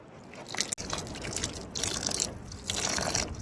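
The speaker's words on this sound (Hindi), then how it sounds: "पहले इसमें पानी देती हूँ," Water trickles and drips onto a potted fennel plant in a cold Himachal Pradesh village, a soft, close, uneven splashing with brief louder spurts.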